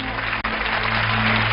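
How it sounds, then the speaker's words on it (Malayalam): Audience applause fills a television studio stage show as a steady, fairly loud wash of many hands, continuous throughout with a low constant hum beneath and one brief dip near the start. "സുന്ദരി സുന്ദരന്മാരൊന്ന് കൈയടിക്കാൻ പറയാം"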